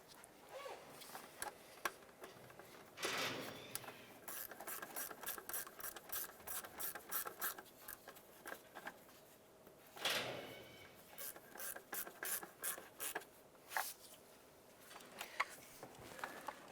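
A hand ratchet snugging starter bolts on a 2001-2005 Honda Civic, giving bursts of rapid clicking strokes separated by short pauses, faint and close, with no talking.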